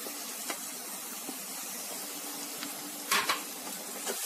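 Soft, continuous sizzle of paneer and boiled peas in a frying pan, with a few sharp clinks and scrapes of a spoon against the pan partway through, and no speech.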